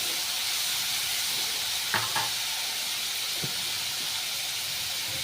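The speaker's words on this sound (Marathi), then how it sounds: "आता मीठ टाकलेलं आहे आणि परत एकदा परतून घेत आहे" Cluster beans (guar) sauté in oil with salt, giving a steady soft sizzle and hiss throughout, with a couple of faint clinks of a spatula stirring the pan.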